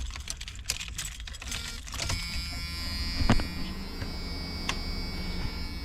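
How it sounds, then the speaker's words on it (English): A car's electric cooling fan runs as a steady whir with a faint hum, after some clicking and handling noises, starting about two seconds in and continuing at moderate level to the end. "Cooling fan one works"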